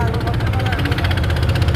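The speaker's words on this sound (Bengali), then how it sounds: "ইঞ্জিন স্টার্ট দেওয়া হয়েছে," A boat engine, just started, idles close by with a steady, throbbing chug, continuous and fairly loud.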